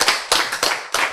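Applause from a church lecture audience, clapping in four short, loud bursts about a third of a second apart, close and with no talk over it.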